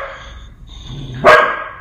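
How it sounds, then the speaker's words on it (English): A dog lets out a single loud bark near the end, close by and alone, after a stretch of faint background noise. "What are you barking at?"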